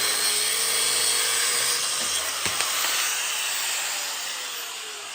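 Angle grinder cutting into metal on an old car, a sustained high whine with a brief sharp clank partway through, heard close with no talk.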